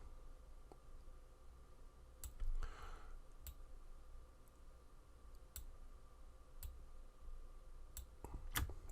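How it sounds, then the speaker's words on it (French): A computer mouse in Photoshop, faint, sparse clicks scattered irregularly over a quiet background hum, alone with no talk. "Je reclique ici pour continuer."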